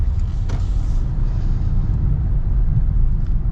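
A 2024 Mitsubishi Outlander's 2.5-liter four-cylinder engine heard from inside while driving, a steady low rumble blended with road and tire noise, continuous and moderately loud with no talking.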